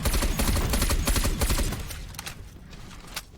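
Herald of Woe firing in three-round bursts in Black Ops Cold War Zombies on Die Maschine: rapid loud gunfire for the first half, then scattered fainter shots and game effects.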